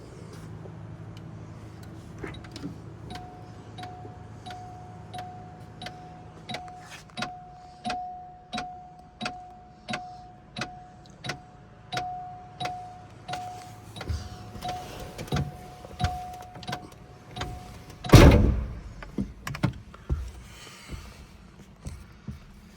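Rhythmic cranking clicks build steadily alongside a warning chime, then a 1984 Cadillac Eldorado Biarritz engine catches with a loud burst and settles into a quiet idle.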